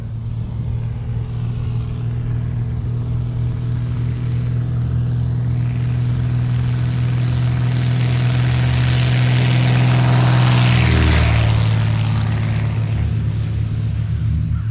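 A small propeller plane's engine drones steadily, then builds in pitch and power as it accelerates down the runway at F69 Airpark, Dallas, loud and close.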